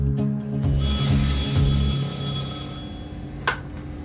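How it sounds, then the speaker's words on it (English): A telephone rings inside a house in the horror game Paranormal Survivor, a steady electronic ring holding for several seconds with a brief sharp click near the end; no voices. "All of a sudden, the phone rings."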